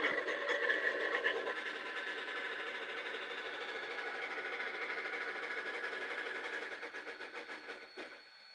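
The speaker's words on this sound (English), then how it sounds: "That chuff sounds a little fast." A model steam train locomotive runs with a fast, steady chuffing and rail clatter. The sound holds at a constant level throughout, then thins into a few separate pulses near the end. No one speaks.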